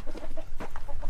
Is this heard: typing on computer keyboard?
no